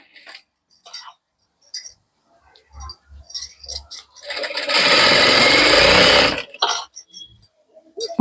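A sewing machine stitches a blouse in one loud continuous run of about two seconds, set between scattered handling clicks, fabric rustle and short pauses.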